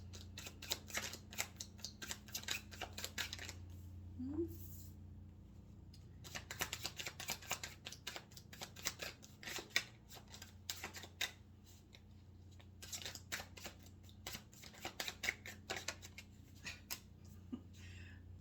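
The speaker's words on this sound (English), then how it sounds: "These cards are hard to shuffle." Tarot cards being shuffled by hand, a stiff deck that resists, giving close, dry papery riffles and flicks in bursts separated by brief pauses.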